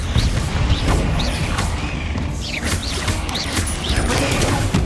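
Explosive spell blasts from Bombarda and Confringo in Hogwarts Legacy, a dense, continuous barrage of booms and crashes with rumbling low end during combat, staying loud throughout with no speech over it.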